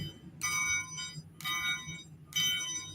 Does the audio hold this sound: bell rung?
yes